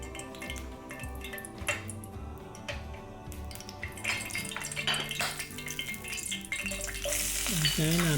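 Oil heating in a saucepan at the start of a black pepper sauce, giving a steady, soft sizzle that grows louder and brighter toward the end, under background music.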